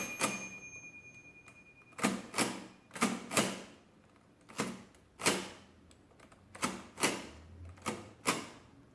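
The keys of a Comptometer Model H mechanical adding machine are pressed one at a time, giving sharp, close clacks in an uneven rhythm with brief gaps between them, against quiet background hiss.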